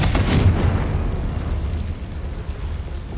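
A Confringo blasting spell in Hogwarts Legacy erupts in a loud, deep fiery explosion with a sharp initial burst. A long rumbling tail follows, with no talking.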